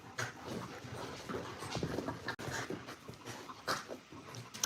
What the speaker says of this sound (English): Mostly right now, dogs attacking me.